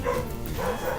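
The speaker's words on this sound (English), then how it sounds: "I'm very sorry about the dog barking" A dog barks in a brief, muffled burst indoors, somewhat distant and blended into the room's background noise.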